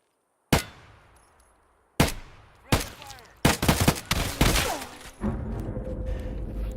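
Gunfire in the Escape From Tarkov video game: several sharp, loud shots spaced apart, then a dense burst of rapid fire with clanging impacts, ending in a sustained noisy tail.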